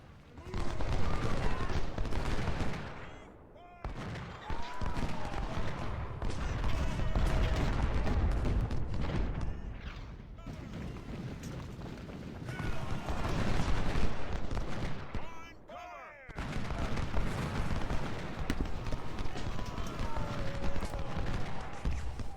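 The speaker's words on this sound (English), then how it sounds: "Wow, he's got a lot of artillery down there." Artillery fire and musket volleys rumble and crack through a Civil War battle in Ultimate General: Civil War at the First Battle of Winchester, heavy booms repeating in loud bursts with short lulls between them.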